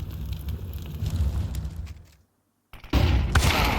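Gunfire and a flashbang in a Counter-Strike 2 pro match, a dense rumbling burst that cuts to a brief silence before another loud blast of shots.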